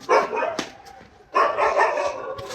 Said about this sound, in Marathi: पुढे कुत्रा आहे समोर